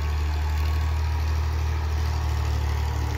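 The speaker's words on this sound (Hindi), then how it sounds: "तो गाइस अभी ट्रैक्टर आ रहा है सामने से," The engine of a Farmtrac 35 tractor runs as a steady, loud, low diesel drone with faint clatter and no voices.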